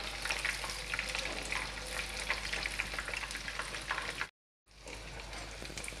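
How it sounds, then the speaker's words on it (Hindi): Batter-coated paneer cubes for restaurant-style chilli paneer sizzle and crackle steadily as they deep-fry in hot oil, a dense, close, continuous frying hiss that cuts out briefly near the end before resuming. "एक तरफ पनीर जब अच्छे से सीख जाए तो हमें इसे दूसरी तरफ पलट देना है"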